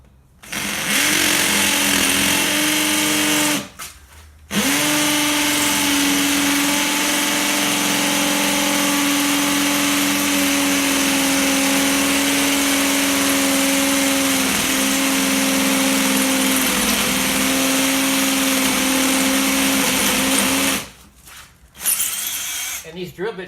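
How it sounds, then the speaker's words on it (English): A power drill drives into a scaffold plank being made into shelves, whining steadily and loudly for long stretches with brief stops and restarts, its pitch dipping slightly as the bit bites into the wood. "And these drill bits keep coming loose."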